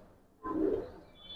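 Giribaz pigeons settle inside their loft, and one gives a single short, low coo close by after a quiet start, followed by faint background noise.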